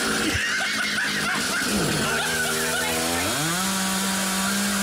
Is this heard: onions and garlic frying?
no